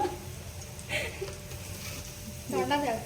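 Raw banana slices fry in hot oil with a close, crackling sizzle that swells in short bursts, partly under faint voices.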